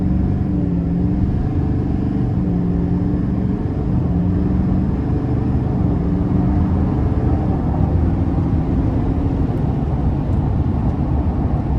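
A 2025 GMC Sierra 2500HD AT4 heavy-duty pickup's engine rumbles loudly and continuously, its deep drone rising and holding as the truck accelerates hard, with no talking.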